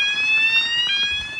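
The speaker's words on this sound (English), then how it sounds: "let's test the door alarm" A fire alarm system's door alarm sounds during a monthly test, a steady, loud electronic tone with layered high-pitched harmonics held continuously throughout, with rain falling faintly in the background.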